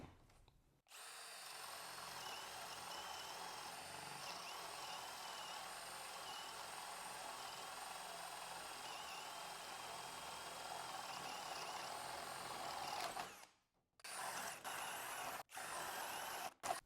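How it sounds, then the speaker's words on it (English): A Skil 12V compact hammer drill with a 1-inch spade bit bores holes in a steady, loud, continuous whine for about thirteen seconds, then stops, followed by a few short bursts. "1-inch spade bit. This is the hammer drill."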